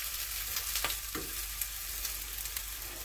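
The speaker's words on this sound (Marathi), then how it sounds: "एकदम तेल आणि वरूनही सोडायचं, आणि 1/2 मिनिट एक बाजू भाजली की लगेच पलटी करायचं" Thalipeeth, a multigrain flatbread, fries in plenty of oil on a pan with a steady close sizzle and crackle throughout, marked by a few soft scraping stirs.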